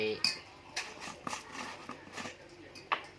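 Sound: stirring raw shrimp salad with chili to mix

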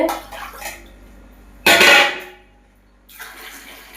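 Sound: water being poured while cooking, counting glasses

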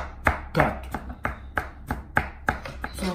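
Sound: knife chopping onion finely

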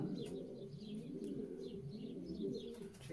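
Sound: racing pigeons cooing in the loft

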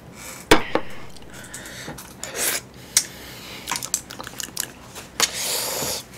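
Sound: eating jjolmyeon chewy noodles

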